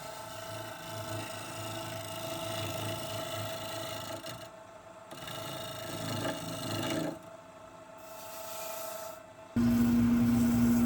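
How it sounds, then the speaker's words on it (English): Rough, rasping shear scraping of a tool against wood spinning on a lathe, in bursts with brief pauses, then a steady low motor hum takes over at the end. "starting off with some shear scraping here"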